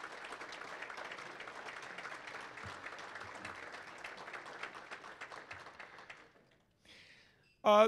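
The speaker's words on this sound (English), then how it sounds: "help welcome with your applause" An audience at a boxing alumni reception gives sustained applause, even and moderately loud, then it fades out near the end before a short burst of sound closes the stretch.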